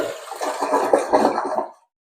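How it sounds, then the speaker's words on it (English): A toilet with a Fluidmaster automatic bowl cleaner flushes in a brief rush of swirling, gurgling water. The flow builds and then cuts off sharply into silence, with no talk over it. "Let's try another flush and see if we can get some blue."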